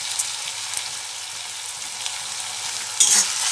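Thupka ingredients with dark soy sauce being stirred in a pan, a faint continuous hiss of frying with a few light scrapes and a brief louder burst near the end, close by and without speech.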